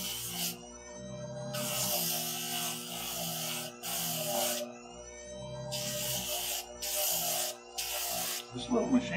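A small machine sands a western belt buckle, giving bursts of harsh, hissing abrasion that start and stop several times over a steady motor hum.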